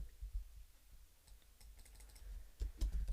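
Quiet keyboard typing, a run of soft, irregular key clicks that grows busier and a little louder toward the end, with no voices.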